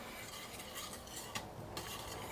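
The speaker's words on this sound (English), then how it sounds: "I'm just going to whisk it in vigorously" Chicken piccata sauce whisked vigorously in a pan: a dense, continuous swishing and scraping, close and steady, with a couple of brief accents and no voices.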